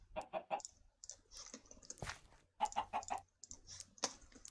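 Chickens in modded Minecraft (FTB One) cluck in short, quick bursts, with several clusters of game clucks in a row at close, moderate volume.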